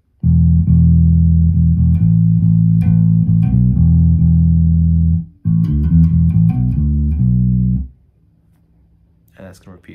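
Bass guitar plays the verse line of a song, starting on an open E, moving to A and a quick B before returning to E; loud, close, sustained low notes in a steady repeating pattern, alone, then stopping near the end.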